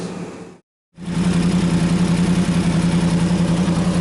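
A 2016 Yamaha MT-10 motorcycle with a freed-up exhaust idles with a loud, throaty burble after a brief cutout, its rapid pulsing beat steady and close.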